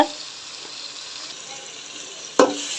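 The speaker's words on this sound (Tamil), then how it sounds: "இந்த அரைச்ச பேஸ்ட் வந்து பச்சை வாசனை போகிற அளவுக்கு நல்லா வதக்கிக்கலாம்" Ground spice paste sautéing in a pan for chicken biryani, a steady soft sizzle throughout with a brief louder clatter of stirring near the end.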